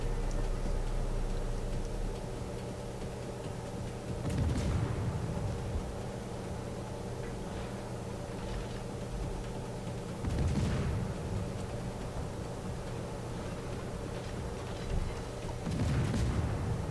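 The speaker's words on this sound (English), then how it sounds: "I'm going to focus fire on the Yoshino." Naval guns on the Smolensk cruiser in World of Warships let off three heavy salvos about six seconds apart, each a deep booming blast over a steady low engine and sea rumble.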